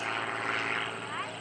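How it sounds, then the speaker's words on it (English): A modern full-scale aerobatic airplane rolls one way and then the other at the 2012 Greenwood Lake Airshow, its engine a steady, loud propeller drone with an announcer talking over it. "Rolling the airplane and then rolls it the other way."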